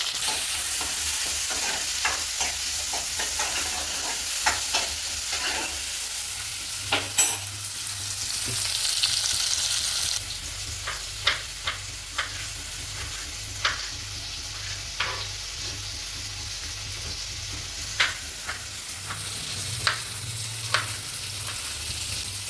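Shallots and curry leaves frying with mustard seeds in a hot pan, a steady close sizzle with intermittent stirring scrapes and crackles throughout, no voices.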